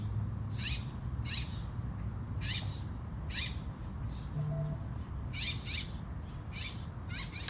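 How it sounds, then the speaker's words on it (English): Repeated rasping, screechy bird calls outdoors, about a dozen short bursts coming in irregular clusters at moderate distance over a low background rumble, with no talk. "You hear these birds?"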